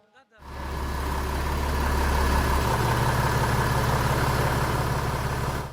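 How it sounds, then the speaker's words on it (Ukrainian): A car engine starts and settles into a steady, close idle with a deep continuous rumble, while a voice speaks in the background. "Я часто танцюю під звук двигуна."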